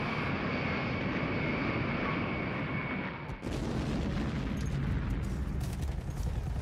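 Military aircraft in a wartime bombing campaign over northern Vietnam roar steadily and loudly throughout, with a dense, continuous engine drone and a sharp break midway, with no talk.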